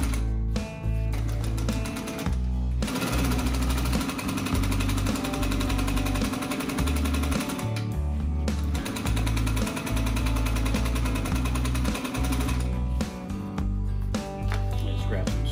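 A sewing machine runs fast, stitching a butt seam through material, giving a loud steady mechanical whir in long continuous runs broken by two brief pauses.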